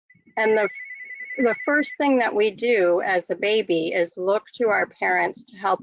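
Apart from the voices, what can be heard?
telephone ringing behind the speaker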